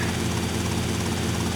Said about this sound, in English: At the gold, this is where the helicopter comes in handy